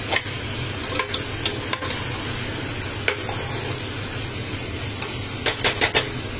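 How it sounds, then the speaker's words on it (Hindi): Raw meat at a butcher's shop is stirred with red chili and coriander powder, giving a continuous wet scraping and sizzling-like mixing noise with scattered sharp metallic clinks of a utensil against the vessel, loudest near the end. "ये डाला है, इसको करो मिक्स।"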